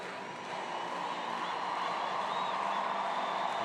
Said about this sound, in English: And some good support from the crowd.